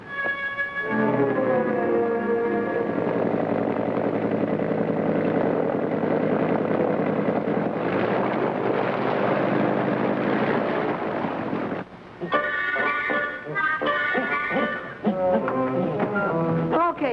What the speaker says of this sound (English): I heard the plane coming.